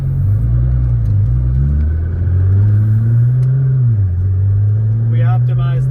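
A 1000HP Nissan GTR pulls out onto the road, its engine a steady low drone that rises and dips in pitch as it moves off, with a voice talking over it near the end.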